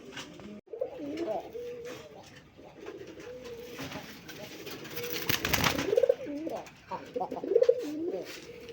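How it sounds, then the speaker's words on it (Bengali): Old-breed desi and Raj Golla pigeons cooing nearby, several soft rolling coos repeating at intervals over low background noise, with a few louder calls near the end. "এটাও কিন্তু আমাদের পুরান জাতের রাজগোলা কবুতর"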